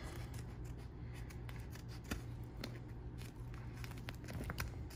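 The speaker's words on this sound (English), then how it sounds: "take scissors and just cut it out underneath" Scissors snip away a Thomas Payne foot rest cover underneath an RV seat, a run of close, crisp cuts with soft rustling and shuffling of the material in between, steady and fairly quiet.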